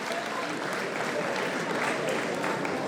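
Crowd applauding young female podium finishers at a 10 km running race prize ceremony, steady dense clapping throughout at moderate distance with no break.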